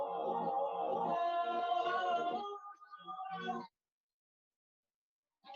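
Reversed sampled music pitched down about 300 cents, a dense swelling chord with layered tones that builds and cuts off abruptly, followed by a short fragment after a pause of silence.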